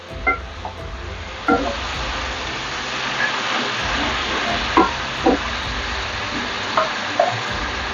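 Chicken fries in a pan for Bengali chicken korma in a continuous sizzle, with scattered clinks and scrapes of a utensil stirring the pieces.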